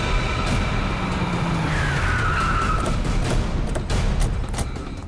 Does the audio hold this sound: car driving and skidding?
yes